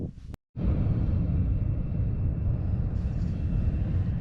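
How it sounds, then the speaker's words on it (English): A steady, loud rumbling roar of a passing train in the background fills the clip after a brief cut, continuous and unbroken, during outdoor gold panning. "Please excuse the train noise in the background."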